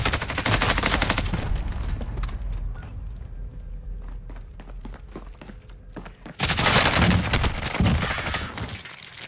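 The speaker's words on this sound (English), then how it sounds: "I hear the sounds of sniper rifles." Rapid bursts of gunfire from Call of Duty Warzone, loud and dense at the start, thinning into scattered distant shots, then erupting again into heavy, sustained firing near the end.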